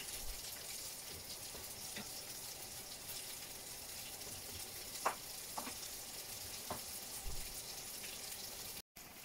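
Shrimp green curry cooking in a pan, a faint steady sizzle and bubbling with a few soft clinks, heard alone at low level.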